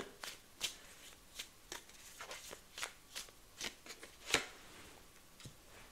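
Tarot cards shuffled and drawn by hand, a string of soft, quick riffling and slapping bursts at an even pace, close and quiet with no talk.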